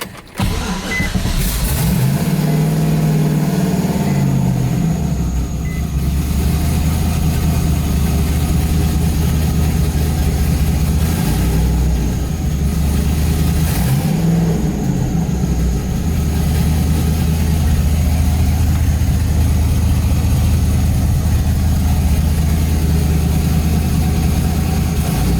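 A twin-turbo car engine idles steadily and close by with a low rumble, briefly swelling a couple of times before settling back to a constant hum.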